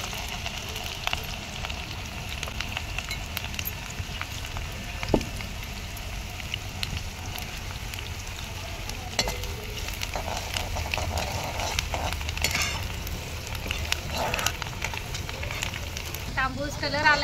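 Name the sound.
onion frying in a pan over a wood stove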